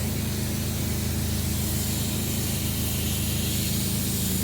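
Spray foam insulation sprays from a sprayer indoors in a continuous loud, dense hiss that holds steady throughout with no talking.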